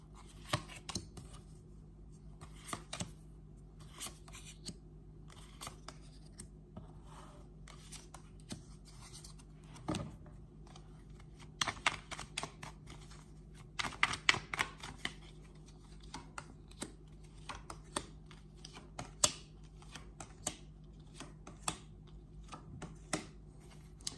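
Tarot cards are shuffled and laid out on a table in a quiet room, with soft flicks, slides and sharp taps scattered irregularly, some bunched into short bursts.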